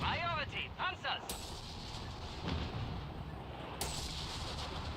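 An anti-tank artillery barrage in a video game booms repeatedly against a dense background rumble, with sharp impacts standing out, while a voice talks over the opening seconds.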